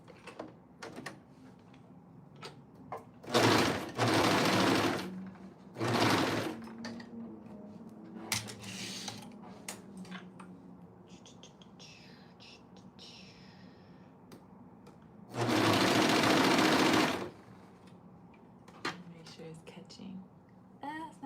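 A home sewing machine stitches elastic onto Oakley Bottoms in three loud whirring bursts, two short and one longer, separated by quiet handling and a person talking.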